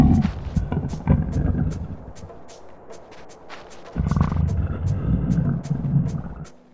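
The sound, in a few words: CJ's hungry stomach rumble, video game GTA San Andreas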